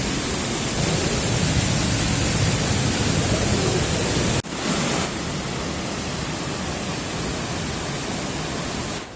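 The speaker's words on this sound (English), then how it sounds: "Alright, now we're at the midpoint of this waterfall." Large Tennessee waterfall with heavy mist, a dense, loud, continuous roar of falling water, close and steady throughout with no voices.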